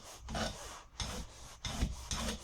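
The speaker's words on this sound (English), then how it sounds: "I'm going to go and take a file and a cloth and just" A metal file dressing the edges of a Wilkinson Sword type D survival knife, four rhythmic rasping strokes close up, each a short scraping burst with brief gaps between.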